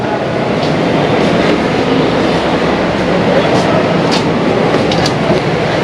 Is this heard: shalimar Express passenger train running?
yes